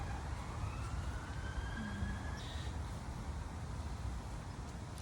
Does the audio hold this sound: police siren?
yes